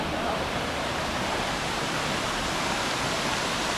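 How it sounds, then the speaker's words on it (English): A waterfall in El Yunque rainforest, Puerto Rico, pours as a constant, full hiss and rumble of rushing water, close and steady throughout with no voices. "some more waterfalls."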